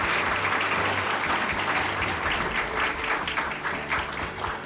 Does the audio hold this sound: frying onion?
no